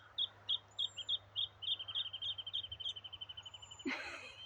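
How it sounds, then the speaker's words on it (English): A bird calls in a rapid series of high chirps that speed up into a trill, faint and alone, ending with a brief rustle. "I'm not sure what bird that is, but it was great."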